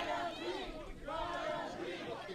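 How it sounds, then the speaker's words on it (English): A wrestling crowd chants during a tag team match, rhythmic massed voices repeating in waves at moderate distance, with a commentator's voice talking over it. "Bottom G chants breaking out here from the crowd."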